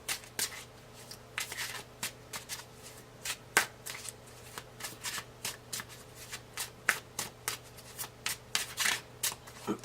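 Tarot cards shuffled by hand up close, a quick run of crisp riffling and slapping bursts in an uneven rhythm, with brief pauses between cards being pulled.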